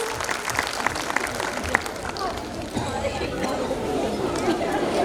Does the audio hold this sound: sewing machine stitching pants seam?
no